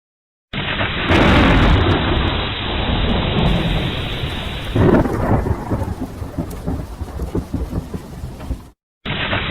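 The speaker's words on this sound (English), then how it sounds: "Texoma, most amazing thunderstorm I've ever been in." Heavy thunderstorm in Texoma, with loud close rolling thunder over steady pouring rain that continues for several seconds before cutting out.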